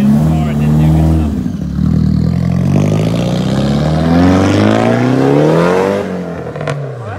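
A Nissan 180SX fitted with an aftermarket exhaust revs loudly and close, its engine note climbing and dropping through several pulls under people talking.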